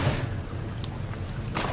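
Steady rain hisses in the crab-fishing video game Deadliest Catch, a dense, close wash of falling water with a faint low rumble underneath, running unbroken for a couple of seconds with no voices.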